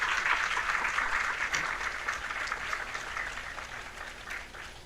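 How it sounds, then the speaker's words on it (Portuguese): A seated audience at a public governance talk show gives warm, sustained applause for the panel guests, with a dense wash of clapping from many hands that holds steady and tapers slightly toward the end. "Pedimos uma calorosa salva de palmas para eles."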